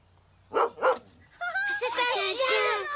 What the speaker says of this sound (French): un chien! Il est mignon!